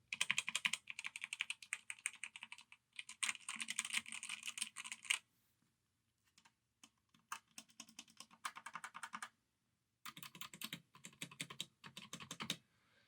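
Full key presses on an E-YOOSO Z686 60% mechanical keyboard come in bursts of rapid, close clicky taps, broken by short silent pauses and a few isolated strokes.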